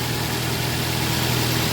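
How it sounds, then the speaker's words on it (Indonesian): A car engine idles steadily under an open hood during a pre-trip check, running normally with no abnormal noises from the alternator, water pump, bearings, AC compressor or crankshaft pulley, a constant close rumble and hum with no voices. "Saat menyala seperti ini pastikan tidak ada bunyi yang abnormal ya dari bagian mesin"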